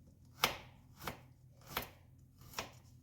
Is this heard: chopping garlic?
yes